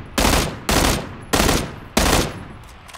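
Four rapid M16 bursts fire in PLAYERUNKNOWN'S BATTLEGROUNDS, evenly spaced about half a second apart, each a sharp, loud crack-rattle that decays quickly before the next.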